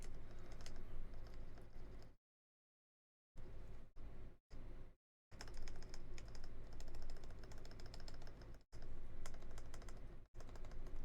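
Typing on a KBDFans KBD75v2 keyboard fitted with Alpaca switches and a wrist rest pushed right up against it, a steady close run of keystrokes broken by a few short pauses.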